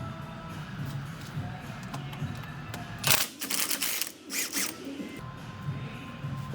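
A 15/16 socket wrench loosens a bolt on the main clamp carrier of a COATS Heavy Duty HIT 5000 tire changer, giving short bursts of rapid ratcheting clicks over a low background hum, close and alone.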